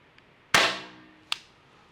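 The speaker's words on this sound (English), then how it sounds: "Let's take a couple more shots." Two shots from an Umarex T4E training gun, the first a sharp loud crack with a long ringing decay, the second shorter and fainter less than a second later, with a tiny click before them.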